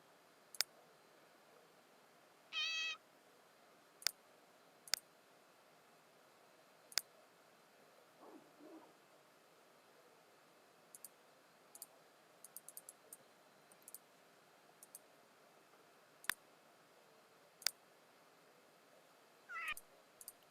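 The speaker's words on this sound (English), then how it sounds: "All I can hear is the cat meowing." Faint, distant meows from a Sims 2 cat come through twice amid sparse, sharp mouse clicks in a quiet room.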